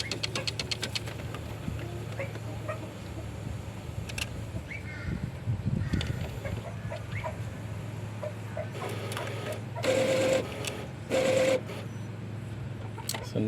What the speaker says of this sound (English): So now it's doing the cleaning action on the black head.